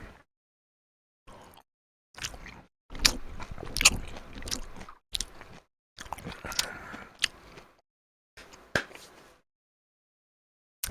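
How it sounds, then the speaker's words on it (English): Chewing noise used as a music sample: wet, crunchy bites and mastication come in separate bursts with gaps of silence between, close and fairly loud. "Some good chewing noise."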